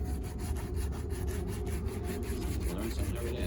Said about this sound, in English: We want to go in the front liberally with the polish because that's where the scuff marks were.